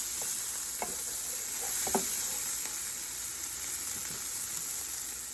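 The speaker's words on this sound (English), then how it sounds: "Gonna let this saute for just a few seconds." Garlic sautéing in butter over medium-low heat, a soft, steady sizzle and hiss with a few small pops and stirring scrapes, heard close up without speech.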